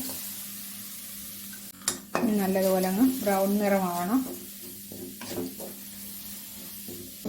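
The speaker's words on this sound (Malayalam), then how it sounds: "അതാദ്യം നമുക്കിത് തേങ്ങ വറുത്തെടുക്കാം അപ്പം പാത്രം ചൂടായിട്ടുണ്ട് ഞാൻ അതിലേക്ക് ഇതെല്ലാം ഇട്ട് കൊടുക്കുകയാണ്" Grated coconut roasting in a hot pan on high flame while being stirred, a soft steady scraping and faint sizzle running under someone speaking throughout.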